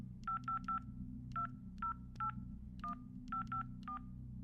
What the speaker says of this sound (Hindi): अपने कैबिन में आते ही उसने एक फोन कॉल लगाया।